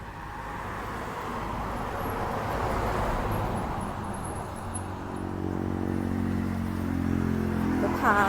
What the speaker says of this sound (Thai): คันนี้ เครื่องเดินเรียบค่ะ เครื่องยนต์นิ่มค่ะ เสียงเครื่องยนต์นิ่มๆเลย